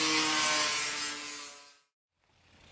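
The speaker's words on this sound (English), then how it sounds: "So it's after lunch right now and back to sanding again." A power sander buzzes loudly against a wooden forebeam, then spins down and falls silent, leaving faint room noise.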